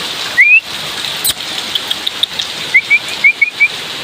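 Heavy rain pours outdoors near a parking area in a steady wash of hiss, with a few thin, high bird chirps and a brief sharp knock rising above it, no speech.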